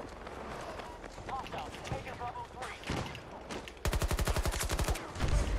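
Rapid automatic bursts of PP gun hip fire in Battlefield gameplay on a harbour map, a fast rhythmic string of shots near the end, over busy game noise and a talking player.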